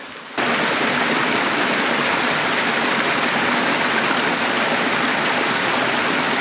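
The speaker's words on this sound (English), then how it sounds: "Got a creek." Fresh snowmelt creek on Mount Lemmon's Pusch Ridge rushes steadily over rocks, a loud, continuous, close wash of flowing water after a brief quiet start, with no voices.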